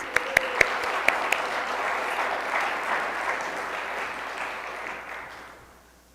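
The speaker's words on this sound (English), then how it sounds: "round of applause for our newest volunteers" Audience applause for new volunteers at a Sunday gathering, starting with a few sharp claps, swelling into steady moderate clapping from a crowd, then fading out toward the end.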